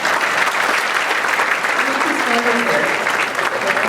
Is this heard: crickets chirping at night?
no